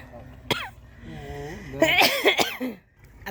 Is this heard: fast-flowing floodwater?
no